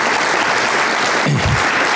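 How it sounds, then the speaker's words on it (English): A fundraiser crowd gives a round of applause for a brewing company, dense steady clapping filling the whole stretch, loud and close with a brief low thump partway through. "Matt, nice round of applause"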